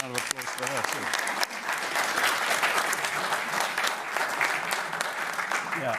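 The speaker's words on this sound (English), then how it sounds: "So, a round of applause for her too." Audience applause at a clinical pharmacology lecture event, loud sustained clapping from a crowd filling the whole stretch, with a voice briefly heard at the start.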